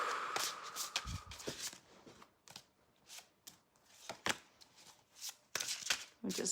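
Tarot cards being shuffled by hand in quick bursts of crisp riffling and flicking, close and fairly soft, with short pauses between shuffles.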